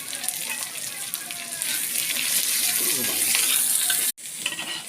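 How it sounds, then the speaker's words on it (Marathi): Garlic, curry leaves and onion sizzle steadily in a hot pan while being stirred for a spicy corn usal, a loud continuous frying hiss with scraping, cut short by a brief silence near the end. "लसूण, कढीपत्ता, कांदा टाकून घेतले आपण."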